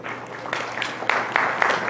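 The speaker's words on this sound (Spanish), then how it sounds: "Un aplauso, por favor" Audience applause for a vice minister at a youth labor law debate in a university hall, a mid-level patter of clapping that swells in a few brief bursts over two seconds.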